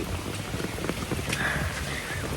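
Heavy rain pours steadily on a riverside campsite in Nakhon Nayok during the rainy season, a dense continuous wash of drops and patter with a few sharper hits on nearby surfaces, loud and close, no one speaking.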